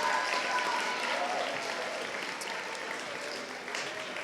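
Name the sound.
applause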